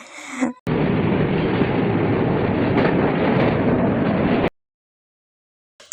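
Passenger train rolling into a station, heard as a steady close rush of wheel and carriage noise that runs for about four seconds and then cuts off abruptly into silence.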